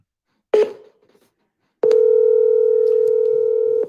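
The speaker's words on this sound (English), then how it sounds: "We are triple dialing." Telephone tone on a call: a brief tone burst, a short pause, then a loud, steady, sustained single dial tone close up, with no talk.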